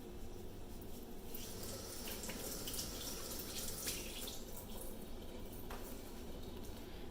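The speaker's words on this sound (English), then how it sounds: "And then you just rinse it off." Running tap water rinsing face wash off a hand, a steady, even splashing flow close by at moderate level.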